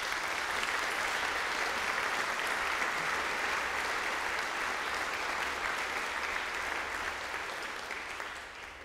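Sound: audience applause

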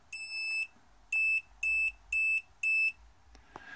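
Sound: Raspberry Pi beeping a sequence on tweet notification

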